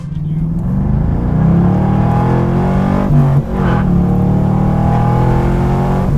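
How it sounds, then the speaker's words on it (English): A Chevrolet Corvette with a short-throw shifter revs hard as it pulls away, its engine note climbing through gears in rising sweeps, with a brief drop at a shift before building again, loud and close. "I'm gonna take on a little test drive"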